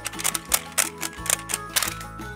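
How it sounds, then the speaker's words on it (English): Plastic flip-up doors on a Guess Who board game are snapped open one after another, a quick run of sharp close clicks and clatters with no talking. "Alright, now we have opened all the doors again."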